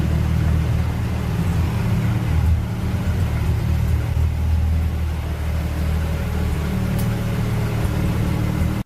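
A supercar engine idles and rumbles steadily at close range, with a constant low, heavy drone and slight swells in revving, no voices over it.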